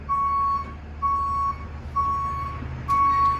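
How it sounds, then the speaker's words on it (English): A school bus reversing gives four evenly spaced, piercing beeps about a second apart over a low idling engine rumble, loud and nearby. "There's that beeping bus."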